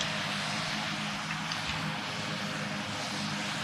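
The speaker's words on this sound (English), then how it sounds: "our aircraft is now just staying at a steady altitude" A steady airplane engine drone from a small aircraft in the Roblox flight game PTFS, holding level altitude with a constant, fairly loud hum and no speech.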